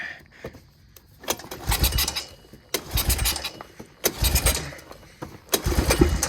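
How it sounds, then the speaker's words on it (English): A 1997 Honda Recon 250 ATV, left sitting outdoors for years, cranks and sputters through repeated uneven bursts, close and loud, with a small backfire among the rough attempts to start. "Oh, oh, little backfire."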